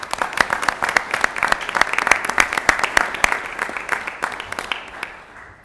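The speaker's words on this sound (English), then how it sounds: "let's give her a round of applause and a congratulations and best of luck" Applause fills a council meeting room: a crowd claps steadily and briskly for several seconds, then thins out and fades away.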